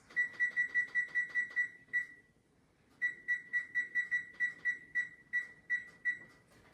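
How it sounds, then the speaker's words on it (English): An electronic oven timer beeps in quick even pulses, pauses for about a second, then resumes beeping in a steady run. Clear and moderately loud. "Now that your timer has gone off"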